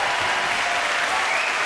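Audience applause greets sculptor André Lavra on a French television variety show, a dense, steady wash of many hands clapping continuously at close range with no pause.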